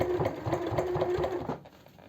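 Sewing machine stitching a line of free-motion stitches on fabric for a one-piece cosmetic bag, a close rapid mechanical chatter that runs steadily, then stops near the end.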